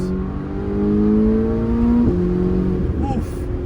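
A sports car engine downshifts and revs under throttle, its steady drone rising in pitch, then a shift break and a second climb, heard close from inside the cabin.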